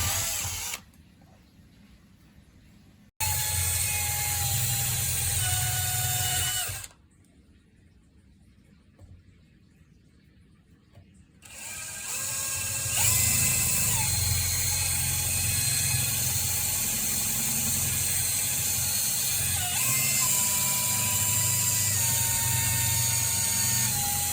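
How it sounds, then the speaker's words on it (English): A drill with a paddle bit bores a hole through a pot, giving a steady whining grind in long bursts broken by short quiet pauses. "You also want to avoid rocking the bit back and forth too much, especially because this one's a paddle bit."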